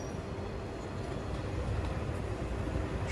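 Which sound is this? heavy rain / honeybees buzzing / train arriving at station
train arriving at station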